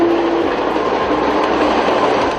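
A train runs along a railway track, a steady loud rumble with rail noise continuing throughout, no voices.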